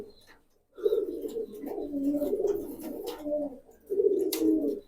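Several pigeons of the Toto Jobra Pankhi fancy breed coo in low, throaty, rolling bursts, with a pause near the start and then nearly continuous warbling that swells again toward the end, close by and fairly loud.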